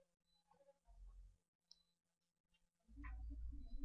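A few soft computer mouse clicks, close and brief, then a louder rustling rumble near the end.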